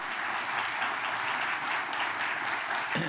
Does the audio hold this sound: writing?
no